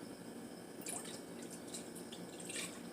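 Almond milk poured into a bowl while making French toast, a soft, steady liquid trickle with a few brighter splashy bursts, faint and close, with no talking.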